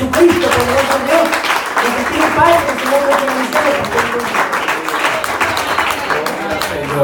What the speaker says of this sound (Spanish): Dale un aplauso fuerte a Jesucristo, poderoso Dios.